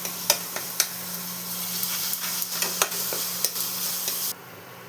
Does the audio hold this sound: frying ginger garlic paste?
yes